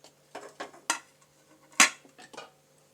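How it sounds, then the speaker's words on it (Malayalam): A small cheenachatti, a Kerala iron wok, is set down on a stove, a pair of sharp metallic clanks among lighter scraping knocks, close and fairly loud in a quiet kitchen. "ചെറിയ ചീനിച്ചട്ടി ഒന്ന് വെച്ച് കൊടുത്തു."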